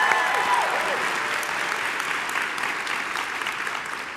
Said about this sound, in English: But first of all, spectacular round of applause for that.